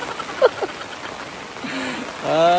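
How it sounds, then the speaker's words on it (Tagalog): Heavy rain pours steadily during a stormy family camping trip in Tuy, Batangas, a constant broadband wash with brief voices and a louder stretch of talk near the end. "So, ang lakas ng ulan ngayon."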